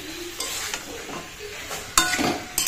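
Spiced chicken being stirred in a pan, with a soft ongoing sizzle and several scraping stirs of a utensil against the pan, one sharper scrape near the end.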